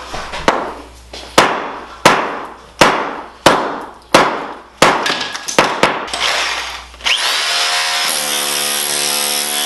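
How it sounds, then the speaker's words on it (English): A 3-pound sledgehammer pounds floor tile in a steady series of heavy, sharp impacts, about one per second and then quicker, each ringing briefly, ending in a sustained grinding, rattling tool noise; loud and close. "we're actually going to use a sledgehammer first, 3-pound sledgehammer, to buzz the tile, loosen it up"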